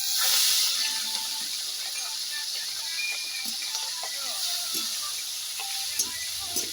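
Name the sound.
prawns frying in oil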